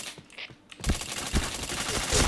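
Automatic gunfire in the Point Blank shooting game bursts in rapid, dense rattling after a brief quieter start, loud and continuous to the end.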